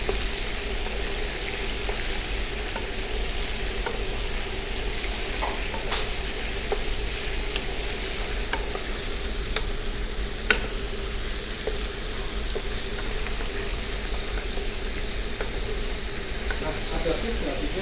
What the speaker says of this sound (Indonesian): udangnya saya goreng dulu sampai dia garing kayak tadi ya